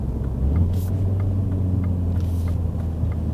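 Mini Cooper S 5-door engine slowing under engine braking, a steady low drone with a sustained hum that settles in after a brief rise, heard from inside the car without talk.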